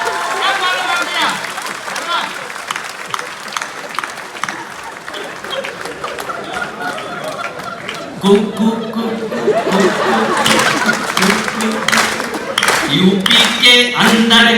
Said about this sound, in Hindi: तालियां बड़ी कर दीजिए एक बार